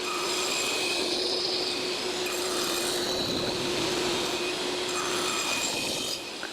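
Wooden parts for a Christmas advent chest being machined in a woodworking shop, a steady, loud, continuous rasping and sawing noise with no talk, holding level throughout before easing slightly at the end.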